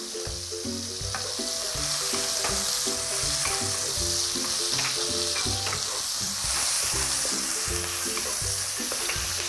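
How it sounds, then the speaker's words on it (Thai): Bird's eye and long red chillies stir-fried with garlic in a pan for a spicy Thai mixed-mushroom stir-fry, giving a steady loud sizzle with repeated scraping and tossing throughout, no voices. "เราก็จะทำการใส่ในส่วนของตัว พริกชี้ฟ้า และก็พริกแดงจินดาลงไปเลยค่ะ เราก็จะนำไปคั่วไปผัดนะคะ กับกระเทียมนะคะ"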